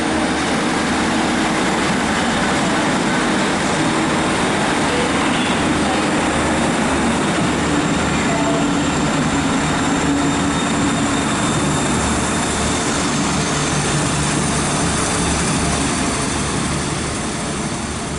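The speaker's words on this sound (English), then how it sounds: "departing now is the 11:58 Transport for Wales service from Milford Haven to Manchester Piccadilly" Transport for Wales service pulling out of Stockport station on the West Coast Main Line, heard as a loud, steady rumble of engine and rolling wheels that holds throughout, with faint talk in the background.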